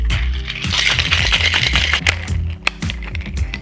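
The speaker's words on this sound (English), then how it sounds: "Now we need to lock it up. Shake it like you mean it." Ice rattles hard inside a cocktail shaker as a tequila whiskey sour is shaken vigorously, a loud continuous clatter that runs without pause.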